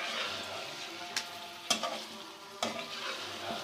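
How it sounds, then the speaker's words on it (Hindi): Goat liver and heart sizzle and fry in a pan over medium flame while a spoon stirs, with a steady crackle broken by a few sharp scraping clinks, close and fairly quiet. "हमारे पास कलेजी और दिल हैं ये शामिल कर देते हैं। बिस्मिल्लाहिर्रहमानिर्रहीम, इसको भून लेते हैं।"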